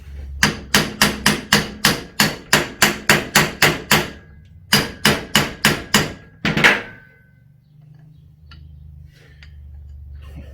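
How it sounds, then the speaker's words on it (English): A hammer strikes a metal part of a Ford Courier alternator in a quick, regular series of sharp taps, pauses briefly, then a few more blows, close and loud, followed by quiet. "The old magic hammer should finish it off."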